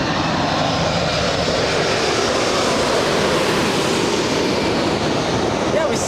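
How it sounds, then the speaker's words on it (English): A United Boeing Dreamliner lands at LAX with a loud, continuous, broadband jet roar. The roar holds steady and close throughout, with faint surf-like wash underneath. "All right, Dreamliner coming in. It's a United."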